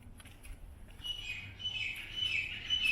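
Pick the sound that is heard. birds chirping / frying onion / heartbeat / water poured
birds chirping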